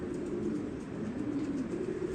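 A pigeon kept by a loft breeder coos in a steady, low murmuring run, close and continuous over faint background hum, with no talking.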